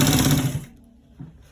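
A sewing machine runs steadily for a short burst while stitching a roll-neck collar, then stops, leaving a faint tail and a small thump.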